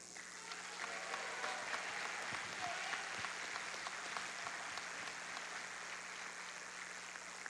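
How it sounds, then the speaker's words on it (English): A crowd at a college men's basketball game applauds for a senior player: a broad, steady wash of clapping with faint crowd murmur underneath, holding at even volume throughout. "one more round of applause for our 2014-15 senior men's basketball players"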